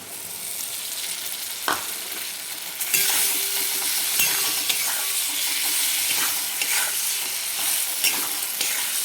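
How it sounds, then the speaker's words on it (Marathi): Chili powder masala frying in hot oil makes a steady, bright sizzle that swells after a few seconds, with occasional clicks and scrapes from stirring. "हे तिखट आपण चांगलं तेलामध्ये तळून घ्यायचं आहे"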